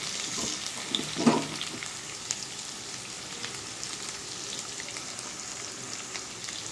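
Chopped onions, seven or eight of them, drop into hot oil already sizzling with kalonji, giving a brief louder hiss near the start before settling into a soft, steady sizzle.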